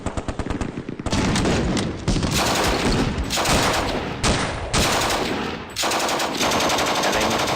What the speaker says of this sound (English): The LMG firing at him lots of times.